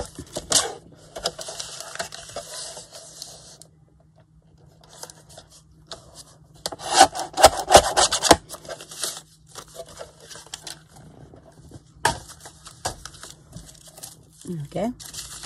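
Scissors trim the edge of journal paper, with scattered snips, crinkles and rustles of handled sheets that come in irregular bursts, some louder and close, others faint.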